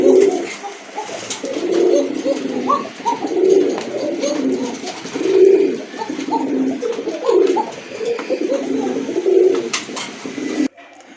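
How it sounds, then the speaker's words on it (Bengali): Pure local deshi pigeons cooing in a loft, repeated low throaty coos in steady rolling phrases, close and loud, with faint rustling and no talk. "এটা হচ্ছে পিওর দেশি কবুতর।"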